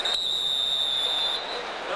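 Referee's whistle at an NFL football game, a single sharp sustained blast over crowd noise in a stadium, lasting about a second before the crowd murmur continues alone.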